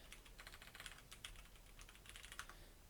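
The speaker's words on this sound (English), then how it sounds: "let me just type it" Rapid typing on a computer keyboard, a steady run of light clicks with a few sharper keystrokes, close and fairly quiet against a soft background hiss.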